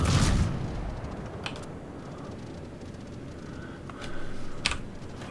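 Warship gunfire in the naval combat game World of Warships: an opening boom, then a few sharp distant shot transients over a steady low rumble of game ambience.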